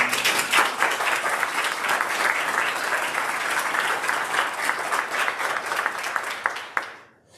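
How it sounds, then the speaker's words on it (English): Warm applause from a crowd at a police chief's retirement ceremony, dense and sustained for several seconds with some individual claps standing out, then quickly tapering off into silence. "Please, let's give her a round of applause."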